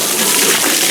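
Water gushing steadily out of RV plumbing during a rinse, a loud continuous rushing with no voices.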